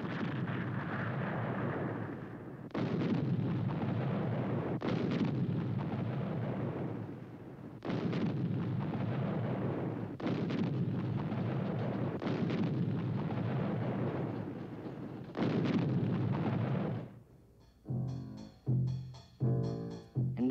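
Heavy WWII siege guns fire around Leningrad in a series of booming blasts spaced a few seconds apart, each with a long rumbling tail, ending in a quicker cluster of sharper shots.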